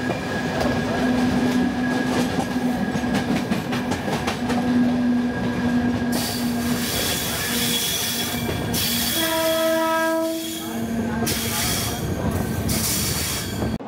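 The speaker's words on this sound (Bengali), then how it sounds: "আমাদের ট্রেন ছেড়ে দিল অনুর্ঘ নারায়ণ রোড" Howrah–Mumbai Mail passenger train running on the rails between Anugraha Narayan Road and Dehri on Sone in Bihar: a loud, continuous rumble of wheels with rhythmic clatter, steady droning tones and a brief metallic squeal partway through, heard from on board.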